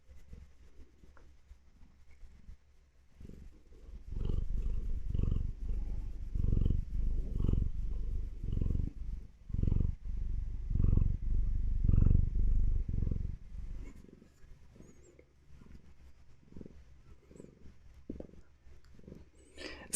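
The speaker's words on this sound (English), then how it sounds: "Give us a purr." A cat purrs close up in a steady, rhythmic rumble of soft pulses, fading out toward the end.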